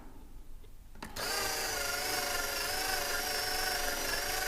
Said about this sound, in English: And let's go to the bigger drill bit.